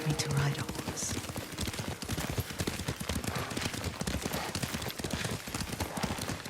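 Horse hooves clip-clop at a steady riding pace in the Ghost of Tsushima video game, a dense rhythmic patter that runs throughout, with low voices talking faintly over it.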